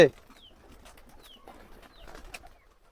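Soft pigeon coos and faint bird calls rise now and then over a quiet background at a pigeon farm with chickens, with low murmuring voices.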